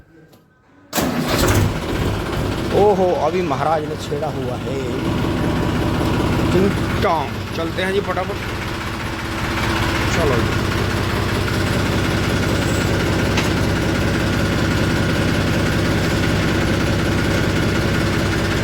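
A Massey tractor engine cranks and catches with a sudden roar, then settles into a steady, loud diesel idle that runs on, while someone talks over it.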